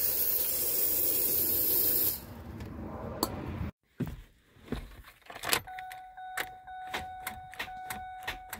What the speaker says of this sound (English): squirt more penetrating fluid